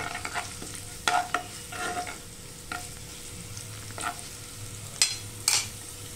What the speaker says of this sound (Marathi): लसूण खरपूस होईपर्यंत परतून घेऊया